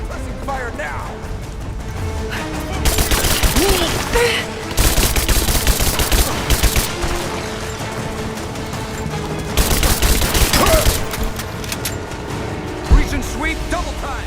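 Heavy gunfire in Rise of the Tomb Raider, with loud bursts of rapid automatic shots in several long volleys and a single sharp crack near the end, under shouted radio-style voices.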